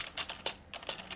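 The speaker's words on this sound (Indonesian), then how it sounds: "saya ketik sembarang aja" Keyboard typing into an MS Word document, a quick run of crisp, close key taps in an uneven rhythm with no voices.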